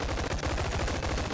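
Rapid gunfire in the VR game Boneworks: a dense, loud burst of shots fired in quick succession, close and unbroken for the whole moment, with no talking.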